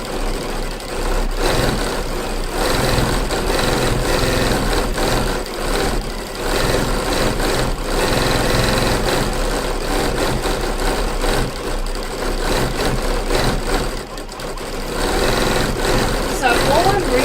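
A Janome sewing machine fitted with an ASR foot stitches fabric in free-motion embroidery, a fast steady mechanical whir close up that runs continuously with slight variations in pace, with a person talking over it.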